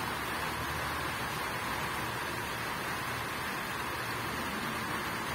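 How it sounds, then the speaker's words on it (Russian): Dense, steady hiss of heavy rain with large drops pouring continuously, a broad even wash of sound with no other voices or breaks. "Видите, какой крупный дождик."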